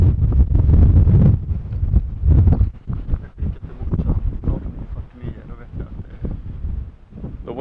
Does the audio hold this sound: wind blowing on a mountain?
yes